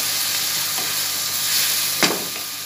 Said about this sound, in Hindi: अब हम इसके अंदर गाजर और शिमला मिर्च डाल देंगे ताकि ये भी इसके साथ ये पक जाए